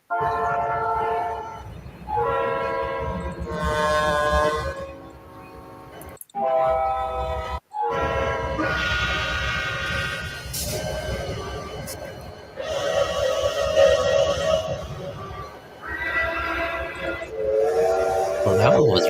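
Train whistles blow repeatedly in long, loud blasts, one after another with varied tones, separated by brief gaps, with voices faintly underneath.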